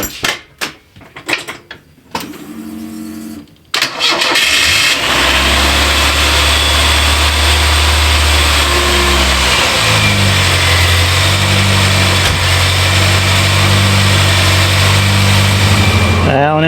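A Ford Mustang engine cranks and fires up, then settles into a loud, steady high idle that holds for over ten seconds, after brief talk and clatter at the start.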